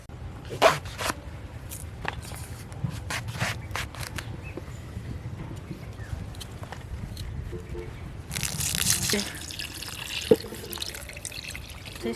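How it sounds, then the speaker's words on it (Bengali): Rice and lentils are washed in water, giving quiet drips, small sloshes and handling noises, then a brief rush of running water near the end, with no speech. "চাল আর ডাল ধুয়ে আনি।"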